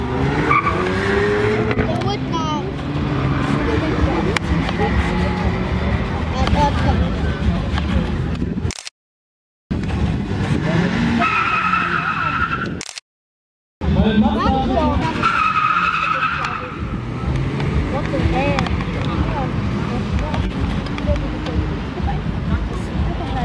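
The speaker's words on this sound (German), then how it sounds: "Schön meine Reifen verbrennen." Tires skid and squeal during a car burnout at a German quarter-mile drag racing event, long loud screeching over engine roar with crowd babble and talk, broken by two brief dropouts.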